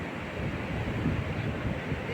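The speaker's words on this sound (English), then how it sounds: "The Satlej and the Spiti rivers gushed into each other." The Satlej and Spiti rivers rush together at their confluence, a steady, loud broadband roar of turbulent water, continuous with wind buffeting the microphone throughout.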